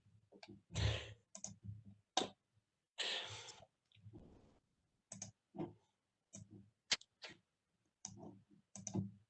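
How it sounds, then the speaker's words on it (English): Keyboard typing comes through as bursts of quick, crisp key clicks with short pauses between, close to the microphone in an otherwise quiet room. "Somebody's typing."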